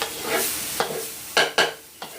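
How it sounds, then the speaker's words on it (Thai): Curry paste stir-fried over low heat in a pan: a soft, steady sizzle broken by several sharp scraping strokes of the spatula, close up with no voices. "ผัดไฟอ่อนๆก่อน"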